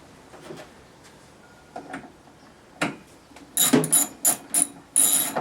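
Ratchet wrench bolting down a replacement windshield wiper motor: faint scattered clicks at first, then a run of loud, close, rapid ratcheting bursts in quick succession toward the end.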